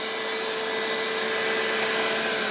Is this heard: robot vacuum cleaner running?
yes